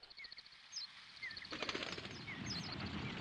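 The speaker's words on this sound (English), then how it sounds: "Was that supposed to be a bird?" A bird flies past in the Legend of Dragoon video game, a brief fluttering swoosh among chirpy game sound effects over a dense, busy background score.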